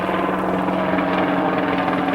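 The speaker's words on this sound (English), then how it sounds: "It's the sound of freedom up there." Military helicopter flying overhead, a loud, steady rotor drone with a constant low hum and a dense rumbling wash filling the whole moment.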